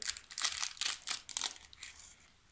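Crinkling plastic packet being opened while unboxing an LOL doll toy, a faint rustling and crackling of thin wrapper for a couple of seconds, close up with no talk over it.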